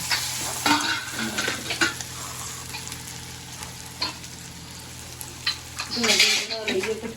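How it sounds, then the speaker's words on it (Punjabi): A tadka sizzles over a pot of dal in a home kitchen, a close continuous frying hiss with clinks of a spoon and a louder sizzling burst near the end, and faint talk in the background. "ਤੇ ਇੱਧਰ ਲੱਗਦਾ ਪਿਆ ਤੁੜਕਾ ਦਾਲ ਨੂੰ"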